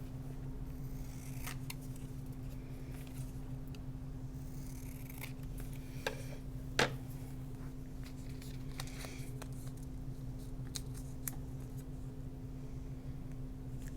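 Scissors snip paper for a planner page in several quiet, scattered cuts over a low steady hum, with one sharper snip standing out.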